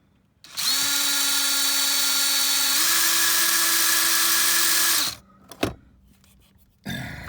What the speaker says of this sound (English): I'm not trying to force it, so I'm just letting the drill do its work.